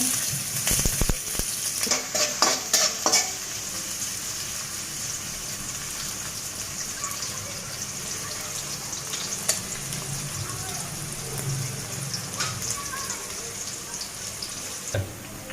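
Onions hit hot oil in a pan and sizzle with a steady, close crackle and hiss, with a few sharper clatters early on while a prawn and bottle-gourd-greens curry is being cooked.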